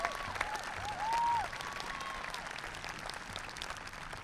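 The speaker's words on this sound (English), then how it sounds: "I'd like to start with a round of applause for our class officers" An audience at the Marblehead High School 2021 graduation applauds its class officers: a steady, fairly faint wash of clapping that swells briefly, with a thin whistle-like tone riding over it.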